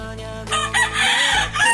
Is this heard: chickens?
yes